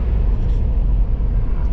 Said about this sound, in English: So we'll drive the car and see how the engine performs.